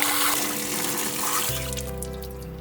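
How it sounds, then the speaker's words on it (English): Tap water runs steadily while aquarium gravel is rinsed beneath it, a continuous close splashing wash whose tone shifts partway through as the flow changes, with no talking. "I'm just going to do that now under the tap"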